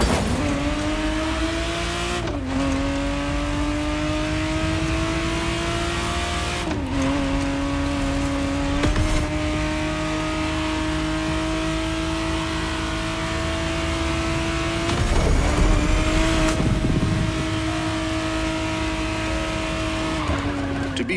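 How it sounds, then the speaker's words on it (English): A 1991 Ferrari 512 TR Testarossa in The Crew Motorfest racing game holds a steady, loud engine drone, with sharp upshifts every few seconds and brief tire squeals between the sustained revs. "the exact model Motorfest has put in your hands is the 1991 re-engineered version of the Testarossa, introduced as the 512 TR"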